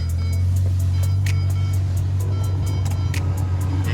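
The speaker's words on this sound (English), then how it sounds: "812 Superfast. Still plastic wrapped. Everything's brand new." A brand-new Ferrari 812 Superfast on a test drive gives off a steady, loud low engine drone with a strong sustained hum, broken by brief light clicks and ticks from the cabin.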